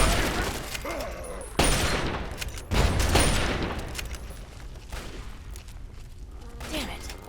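Dense gunfire in a Fallout 3 battle, with sustained bursts and heavy booms mixed under shouting voices, loud and continuous.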